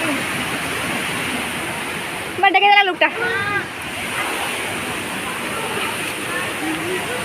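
A waterfall at a temple site in Bolangir, Odisha, sends up a constant loud rush of falling water, with someone speaking briefly over it midway.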